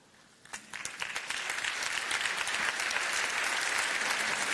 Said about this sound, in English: I ask you to continue a round of applause for all our speakers